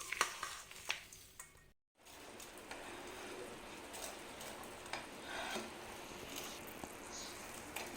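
Roasted dry fruits, grated coconut and cardamom powder being stirred together for dry fruit laddu, a steady close scraping and rustling of the spoon through the mix, broken by a short pause before the stirring resumes.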